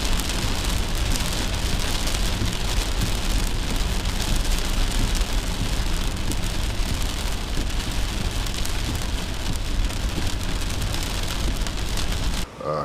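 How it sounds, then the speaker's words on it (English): Heavy rain from a storm drums steadily on a car while driving, a dense continuous hiss and patter that stays loud throughout. "I drove through some pretty wicked storms"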